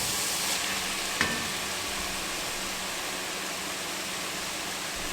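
Cowboy chili simmers in a pot with a steady, soft hissing sizzle and a single brief clink from a stirring spoon early on.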